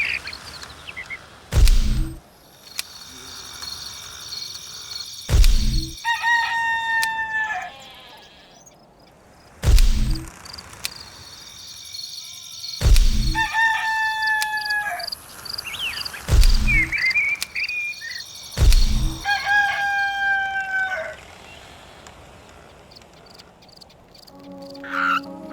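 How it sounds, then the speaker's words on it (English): Rooster crowing in the Black & White 2 video game: four loud, drawn-out crows spaced a few seconds apart, each with a rising then falling strained call over a faint ambient game background. "Roosters always crow when the sun comes up."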